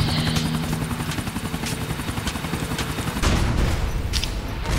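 A helicopter's rotor chop drones steadily beneath a clatter of gunfire bursts in the video game Grand Theft Auto IV, with a heavier crash rumbling in near the end.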